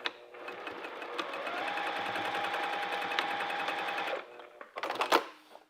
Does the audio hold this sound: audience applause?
no